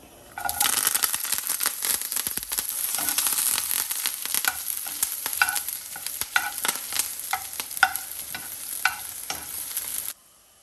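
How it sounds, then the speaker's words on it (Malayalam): Shallots and curry leaves fry in hot oil with mustard seeds for a Kerala-style sardine curry tempering, giving a loud, steady sizzle with stirring scrapes and crackles throughout before stopping abruptly near the end. "നമുക്ക് കുറച്ച് ചെറിയുള്ളിയും കറിവേപ്പിലയും."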